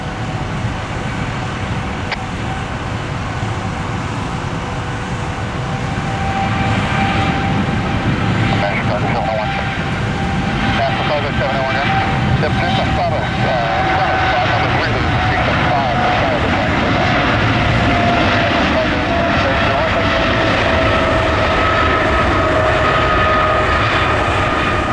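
Jet engines of a Boeing 777 charter idle and whine steadily on the ground at Columbus airport, a continuous loud roar with tonal hums, heard beneath intermittent speech and radio chatter.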